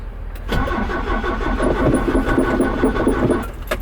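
Toyota 22R engine cranking without catching, a loud close starter churn with rapid rhythmic chugging that runs steadily for over three seconds without firing, after a brief quiet start.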